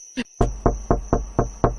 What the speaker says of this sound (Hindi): दरवाजा खटखटाती हूँ, सब सच सामने आ जाएगा।